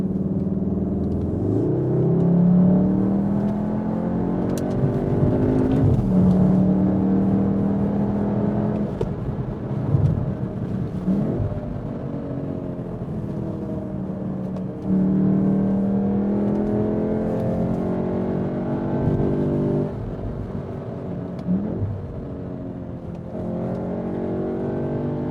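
Engine note of a 310 hp Cupra Formentor VZ heard from inside the cabin while driving, a steady loud drone rising and falling with repeated revving and gear changes throughout.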